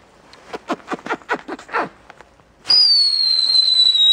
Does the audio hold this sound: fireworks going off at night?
yes